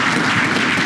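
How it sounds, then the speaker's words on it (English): Dense, loud conference audience applause at a learning technology event fills the moment as a steady wash of many hands clapping together. "Round of applause to Mel there, thank you"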